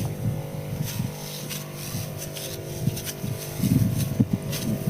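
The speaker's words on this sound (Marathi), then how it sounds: "चालू आहे औषध मारायचं बघून मारायला आता स्टार्ट केली आहे मी" Motorized pesticide sprayer running in a farm field, a steady droning engine hum with a constant low tone throughout, steady and fairly close, with some rustling swells near the end.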